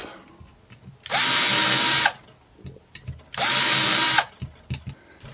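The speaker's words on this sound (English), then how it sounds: "we're going to drill holes with the corresponding drill" Power drill boring holes into a model display case: two loud, steady whirring bursts of about a second each with a pause between, close up and without talk.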